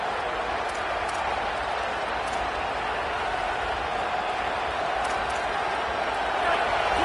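Steady, distant roar of a college football stadium crowd, a broad continuous wash of noise with faint scattered shouts, swelling slightly at the end.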